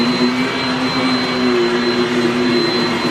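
A household vacuum cleaner runs steadily and loudly at close range, with a constant whine and drone throughout and no talk over it.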